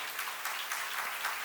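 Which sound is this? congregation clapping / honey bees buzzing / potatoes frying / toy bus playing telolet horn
congregation clapping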